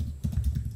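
Typing on a computer keyboard while entering code, a brief burst of soft, muffled key taps heard up close.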